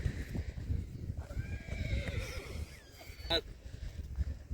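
A mare at a horse race in Gujarat gives a sharp whinny over crowd murmur and a low rumble of background noise, with a brief higher call toward the end.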